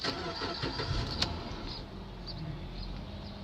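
A 2008 Chrysler 300 LTD sedan's engine cranks briefly and catches, then settles into a steady low idle, heard close and without talk.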